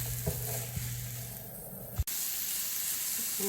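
Vegetable goulash sauce simmers and cooks down in a pan with a steady hissing sizzle, a few soft taps early on and a sharp click midway.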